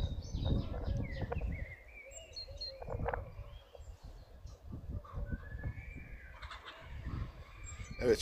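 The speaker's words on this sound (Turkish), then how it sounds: "Sadece kuş sesleri duyuyorum ve tavuk sesleri." Chickens and other birds calling outdoors, with gobbling and cooing sounds rising and falling, some close and some farther off.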